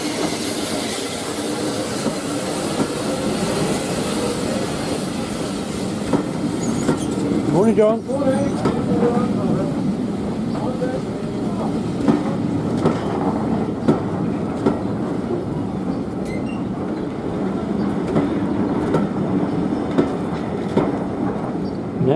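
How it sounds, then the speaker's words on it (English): A heritage train pulls into Bodiam station with steady clickety-clack and rumbling wheels, and a brief sharp squeal rises midway. The train stays loud and close throughout while someone exchanges a short greeting. "And here's the first train of the day."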